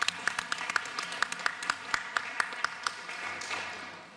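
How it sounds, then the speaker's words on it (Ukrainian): Sparse, evenly spaced claps from a small audience in a hall, honoring Righteous guests at a ceremonial documentary screening in Bila Tserkva, with faint murmur and the clapping thinning out toward the end. "наші оплески їм"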